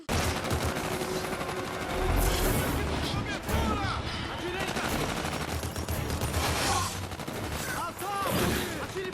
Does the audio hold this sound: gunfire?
yes